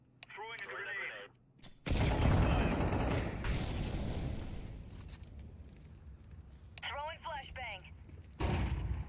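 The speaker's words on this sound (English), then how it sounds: "Throwing a grenade." A grenade thrown and bursting in Counter-Strike 2 gives a loud, broad blast that swells and decays over several seconds, with radio-like voices chattering before and after the explosion.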